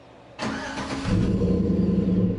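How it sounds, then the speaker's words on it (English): A Chevrolet Silverado pickup engine cranks briefly and catches, then settles into a steady, close idle rumble that continues to the end. "then we'll start the truck so you can see the running lights"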